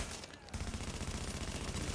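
Shotgun fire in The Division, a loud burst of rapid, overlapping gunshots starting after a brief quiet opening and continuing densely as near, sustained fusillade.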